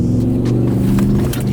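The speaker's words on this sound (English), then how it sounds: "Definitely hear the turbos, but it's not like an overbearingly loud drone." A turbocharged truck engine revs in a short, loud, steady low rumble heard close by, with no talk over it.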